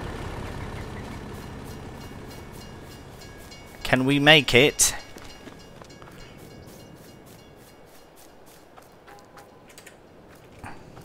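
A train rumbles past in the farming video game Farming Simulator 22, a steady low rolling noise under someone talking, with a loud horn-like burst in the middle before the passing fades.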